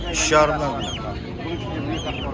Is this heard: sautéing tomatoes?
no